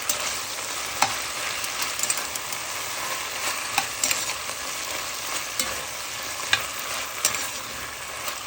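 Chopped garlic frying in a hot pan with a steady, close sizzle, broken by occasional stirring scrapes and pops across the whole stretch, with no talk.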